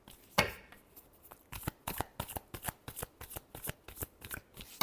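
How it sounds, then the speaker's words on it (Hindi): A deck of tarot cards shuffled close up, a quick series of crisp riffling flicks and slaps in an uneven rhythm, fairly faint against a quiet room. "चलिए लास्ट शफल।"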